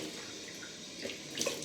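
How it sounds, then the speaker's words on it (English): Cold tap water runs steadily into a sink while a face is washed after a shave with Barbasol and Osage rub, with small splashes near the end. "Let me wash off with some cold water."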